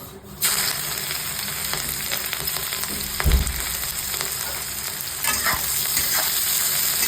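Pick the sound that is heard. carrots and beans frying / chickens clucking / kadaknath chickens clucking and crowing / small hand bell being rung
carrots and beans frying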